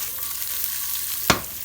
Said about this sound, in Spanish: pimienta negra y romero fresco y seguir friendo que quede doradito